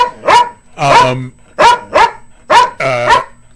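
A dog barks loudly and close, five strong barks in an irregular rhythm with slightly drawn-out, throaty tones.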